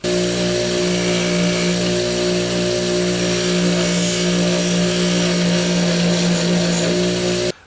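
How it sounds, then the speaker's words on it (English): A grinding wheel smooths the blade of a handmade folding knife, giving a loud, steady high whine with a rough grinding edge that holds for about seven seconds before cutting off abruptly. "I'm just going to very gently go over it on the wheel just to save me a little bit of work."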